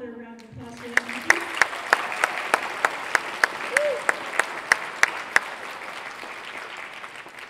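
Audience applauding after a junior high school 8th-grade choir winter concert performance, a steady mass of clapping with a few sharp individual claps standing out, fairly close, lasting several seconds.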